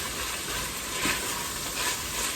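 Tomato paste sizzles and sautés in a hot insert for goulash, a dense, close frying hiss with small swells as it is stirred around.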